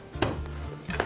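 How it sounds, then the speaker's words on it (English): Garlic being smashed and minced with a kitchen knife on a cutting board: a couple of sharp, close knocks, with a soft crush and quiet pauses between them, heard with no talk over it. "smash, and then we're mincing garlic"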